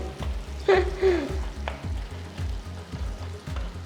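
Chilli karam paste sizzles and splatters in a hot pan over a low flame, a close, continuous frying hiss broken by quick crackling pops, with no one talking.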